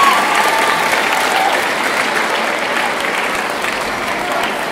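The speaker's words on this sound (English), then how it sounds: "Big round of applause for a huge donation" Loud, dense applause from a large audience at a school awards ceremony fills the whole stretch, steady and sustained without any speech.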